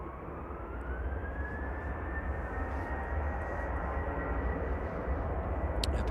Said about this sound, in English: The Qatar 777 and then the A380 departing